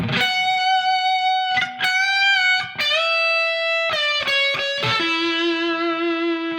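Electric guitar plays the first solo of a song with a sustained, distorted lead tone, long bent and held notes, clear and loud with no talking.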